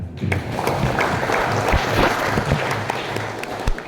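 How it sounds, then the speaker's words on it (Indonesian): An audience applauds at the opening of a government forestry and environment ministry event for instructors, a brief, dense burst of clapping at steady loudness with a few sharper claps standing out. "Tepuk tangan."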